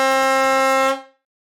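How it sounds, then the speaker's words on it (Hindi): A bus sounds one long, off-key blast of its horn, loud and steady for about a second before cutting off and fading, with no voices around it. "गाड़ी ने एक बेसुरा सा थोड़ा लंबा हॉर्न बजाया"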